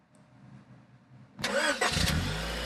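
A car engine starts: quiet background, then a sudden loud crank that catches and settles into a steady, close idle.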